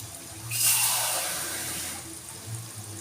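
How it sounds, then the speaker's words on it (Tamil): Water poured from a vessel into a pot of cooking potatoes in a home kitchen, a bright splashing gush that starts abruptly, then settles into a steady trickling stream that tapers off, with no talking. "இப்போது தண்ணியை விட்டு நல்லா நம்ம லூஸ் ஆக்கி வச்சுக்கலாம்."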